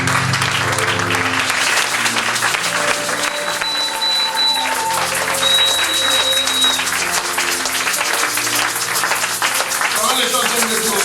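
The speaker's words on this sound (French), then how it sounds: "Acclamez le Seigneur." A church congregation applauds to acclaim the Lord, dense sustained clapping from a large crowd with voices and cheering mixed in, loud and continuous throughout.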